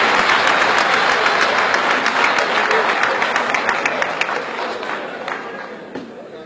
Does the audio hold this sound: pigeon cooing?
no